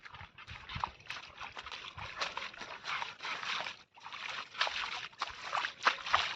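Feet wade and splash through shallow water at the Shree Kondeshwar Shiv temple in Ambernath, giving continuous close sloshing and spattering bursts with one brief pause in the middle.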